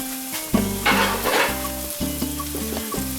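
Unpeeled garlic cloves hitting hot oil in a pan, a burst of crackling sizzle that settles into steady frying with short bubbling pops, close and fairly loud.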